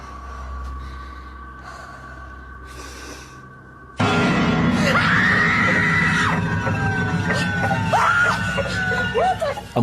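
A creature in cryptid footage lets out a loud, harsh screaming cry that starts abruptly and stays sustained and close, with wavering shrieks and a sharp rising and falling tone.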